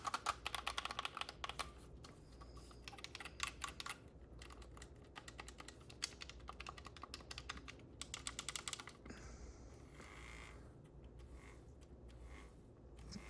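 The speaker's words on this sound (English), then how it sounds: "So you can hear the clicks." Buttons on a purple LENISUOLE wireless controller click in quick, dense bursts of sharp plastic taps, then slow to scattered presses before a softer rustle near the end, close and fairly quiet.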